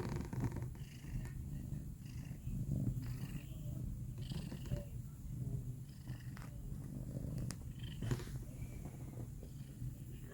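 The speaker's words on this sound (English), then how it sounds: "Listen to this purr." A cat purrs steadily and close up, a continuous low rumbling drone with rhythmic breathing pulses, no voices.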